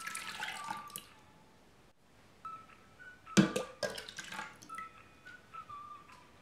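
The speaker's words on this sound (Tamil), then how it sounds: "ஒரு பிளெண்டர் எடுத்துட்டு அதில் மில்க் ஆட் பண்ணிடலாம்" Milk poured into a blender for cold coffee, a thin liquid stream splashing and trickling in short bursts with brief pauses, close and fairly quiet.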